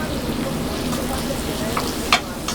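Onions and peppers saute with butter on a grill, giving a steady broadband sizzle with a few scraping clicks near the end, heard close and continuous with no voices.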